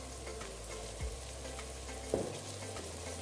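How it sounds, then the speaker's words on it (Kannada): Crushed ginger and garlic with mint and coriander leaves fry in a pot for mushroom biryani, a steady close sizzle with two brief stirring knocks. "ಸ್ವಲ್ಪ ಫ್ರೈ ಮಾಡ್ಕೊತಾ ಇದ್ದೀನಿ."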